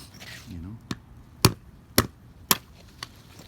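An improvised hammer delivers four sharp, evenly spaced metal-on-object strikes close by, preceded by a brief lighter tap and a short voice at the start.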